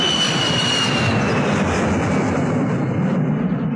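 A jet airplane flies close overhead, a loud, constant broadband roar with a high whine gliding downward, filling the whole stretch with no speech.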